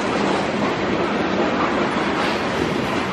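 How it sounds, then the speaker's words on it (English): A train rushes past close by with a loud, steady broadband roar and a rattling clatter of wheels on the rails, continuous throughout with no talking. "It's the train. I love the train."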